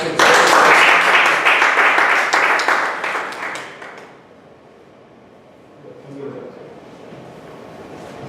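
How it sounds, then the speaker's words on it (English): Audience applause fills a Toastmasters meeting room, loud and dense at first, then thinning and dying away after about four seconds into quiet room tone with a faint voice. "We need to give a big round of applause."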